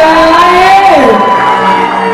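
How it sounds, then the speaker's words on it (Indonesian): A crowd of guests at a birthday party lets out loud whoops and cheers close by, voices rising and falling in a burst of shouting that fades slightly at the end. "Tepuk tangan juga dong buat ladies-ladies kita yang cantik"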